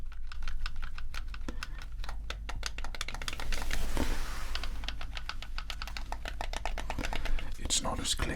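Buttons on a game controller are pressed in rapid bursts of close, crisp clicking and tapping, with short pauses between flurries, heard up close in a quiet setting.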